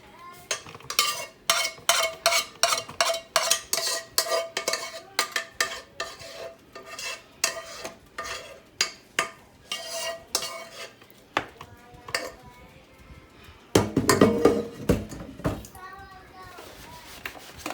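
Food for a quick shepherd's pie is dumped into a pan and spread out with a utensil, giving a run of sharp rhythmic scraping and clanking strokes up close, with a voice in the background and a louder clatter near the end.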